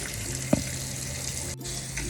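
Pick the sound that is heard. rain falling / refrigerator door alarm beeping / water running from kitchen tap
water running from kitchen tap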